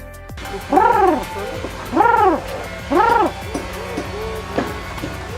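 Three loud, arching bird calls ring out from a tree in Raja Ampat at even intervals, followed by a few softer, shorter calls nearby.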